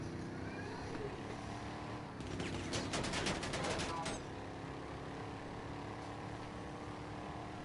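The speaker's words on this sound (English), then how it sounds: "Now he's trying to shoot me" GTA 5 gunfire: a rapid burst of automatic shots lasting about two seconds amid game vehicle and engine noise, with a voice talking over the game.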